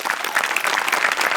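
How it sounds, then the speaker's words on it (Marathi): A studio audience at a TV comedy show applauds, a dense burst of many hands clapping together, loud and even throughout. "सगळ्यात आधी टाळ्या वाजल्या पाहिजेत मोठ्यांसाठी आणि अभिजित पवारसाठी"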